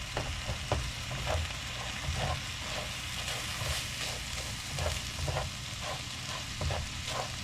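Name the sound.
spices sizzling while blooming in hot oil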